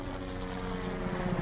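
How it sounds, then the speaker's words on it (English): A helicopter in The Walking Dead: Survival Instinct video game drones steadily with a low rotor hum, continuous and fairly loud throughout, with no talk over it. "You hear that? Chopper."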